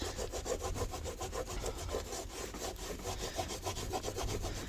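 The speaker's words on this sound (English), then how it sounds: "I can't tell if I'm peeling or like rubbing paint off" Norwex cloth rubbing back and forth over a dirty window sill, a steady rhythmic scrubbing with rasping strokes repeating about three times a second, close and continuous throughout.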